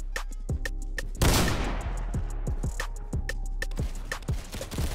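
Gunfire in the Roblox game Criminality, with a steady series of crisp shots spaced fairly evenly and one heavier blast early on, all over a constant low game hum.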